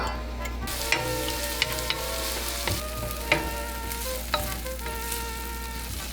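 Onions sizzling in plenty of olive oil in a pan for risotto, a steady close crackle and hiss with occasional sharp pops and a few spoon taps, no talking.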